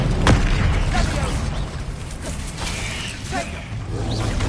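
The Bombarda blasting spell in Hogwarts Legacy goes off as a thudding burst with creaking and clattering debris inside a dense, continuous game soundscape.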